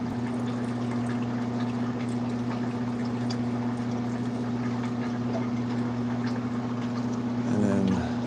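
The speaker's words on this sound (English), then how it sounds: "So I will dump most of this water out." Aquarium water that held cherry barbs is tipped out of a container, a steady rushing pour over a constant low motor hum with no talking.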